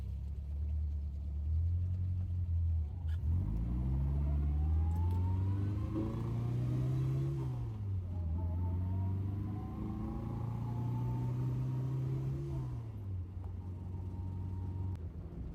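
A 1959 Austin Healey Frogeye Sprite MK1, a classic British roadster, drives with its engine droning steadily from inside the car, rising in pitch through gears with clear revving climbs, shift dips around the middle, then settling at cruise, with no talking.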